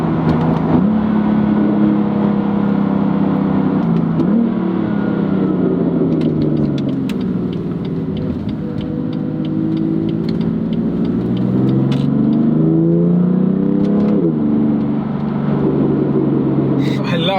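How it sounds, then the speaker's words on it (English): BMW M3 Competition with a six-cylinder engine revving repeatedly from inside the cabin, pitch climbing and falling in long rising sweeps, loud and steady, with fast gear changes from the dual-clutch transmission and a voice talking over it. "I love that sound so much, of that 6-cylinder rising and rising."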